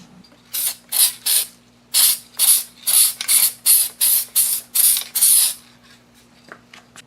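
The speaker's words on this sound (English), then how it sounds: "I'm going to lightly spray it with some adhesive or adhesion promoter." A spray can lays a light coat of adhesion promoter on a 2001 Lexus IS300 dash panel, eleven short loud hissing bursts in a steady rhythm, up close, with a faint hum underneath and no talk.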